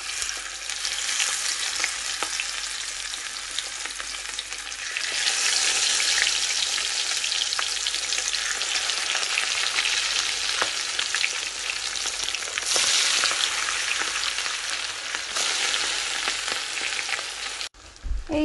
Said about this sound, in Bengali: দেখেন সরষের তেল থেকে ধোয়া উঠছে, তার মানে এখন আমার ইলিশ মাছটা দেওয়ার সময় হয়ে গেছে